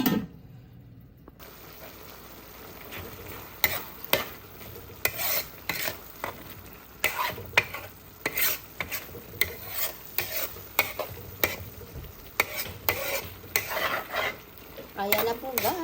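Pork giniling with malunggay leaves frying in a pan, a steady soft sizzle broken by repeated scraping and stirring strokes of a utensil against the pan, with no talking.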